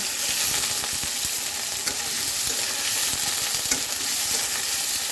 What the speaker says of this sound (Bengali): চলো আলুগুলো একটু সুন্দর হালকা ভেজে নেই